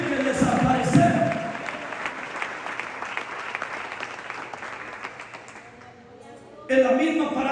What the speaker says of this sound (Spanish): Denle aplauso a la gloria de Dios.